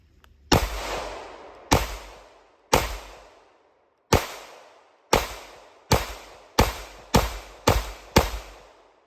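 Ten sharp, loud pistol shots from a Shield Plus fitted with a carry compensator, fired one at a time at a steadily quickening pace, each crack ringing out into a short decaying echo, with no talking.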